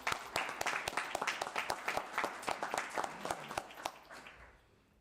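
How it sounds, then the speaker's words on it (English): Audience members at a city council meeting give a round of applause, individual claps distinct and fairly sparse in an irregular rhythm, fading out toward the end, at moderate distance in a quiet room. "Everyone, let's give her a round of applause."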